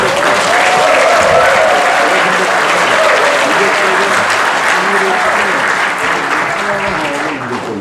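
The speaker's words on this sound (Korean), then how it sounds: "아주 뜨거운 박수로 강연을 청해보도록 하겠습니다." A large lecture audience gives long, warm applause to welcome a 99-year-old philosophy professor emeritus, steady and loud throughout, with faint voices beneath.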